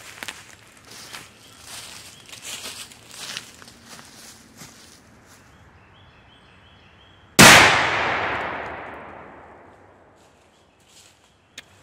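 A single 55 grain 5.56 rifle round fired from a 16 inch barrel: one sharp, loud crack that rings out and decays over about four seconds, following quieter background shuffling and handling noise.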